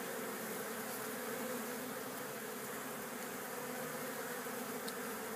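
Honeybees buzzing busily around the front entrance of a double-deep beehive in February, a dense, steady drone of many wings close by, continuous and even throughout with no voices.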